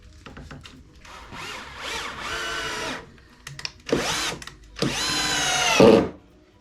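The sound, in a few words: power drill driving a screw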